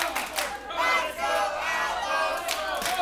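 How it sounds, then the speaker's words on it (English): A wrestling crowd at a CWF Mid-Atlantic show cheers and yells behind a tag team during a match. Loud, sustained voices swell and surge throughout, with sharper shouts rising near the start and near the end. "hear this crowd firmly behind the Outlaws"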